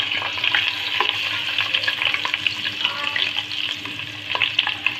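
Steady sizzling and crackling of chopped garlic frying in hot oil, with scattered pops and occasional stirring scrapes, close and continuous.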